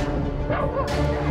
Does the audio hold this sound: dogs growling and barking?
yes